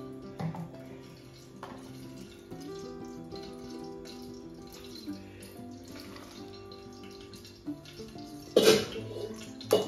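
Thin rice porridge (pej) for a new mother, made with jaggery and coconut, is poured into a vessel, giving a soft liquid splashing and trickling, with one louder splash near the end.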